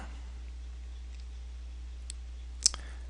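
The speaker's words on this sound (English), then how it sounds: "Click the sign in button." Faint computer mouse clicks on a sign-in button, a soft tick followed by one sharper click near the end against a quiet low hum.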